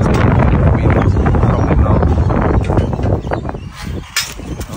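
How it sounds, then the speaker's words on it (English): Gusty wind buffets the microphone outdoors on a cold day near a playground balance beam, a loud broadband rush that stays steady, then eases and surges in bursts near the end. "It's quite windy now, though."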